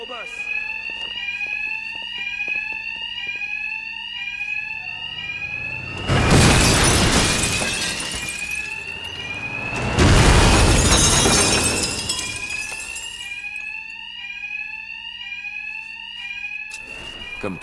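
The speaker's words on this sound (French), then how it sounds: "ces malfrats sont assourdis par les alarmes" Alarm bells ringing nonstop inside a Gotham bank in the video game Batman: Arkham Knight, a steady repeating electronic warble with two loud bursts of crashing noise partway through, and a voice talking over it.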